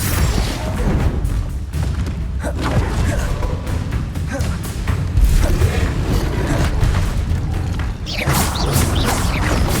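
Confringo fire spell explosions in Hogwarts Legacy amid a busy duel, loud continuous booming, crashing and mechanical clatter with repeated impacts throughout.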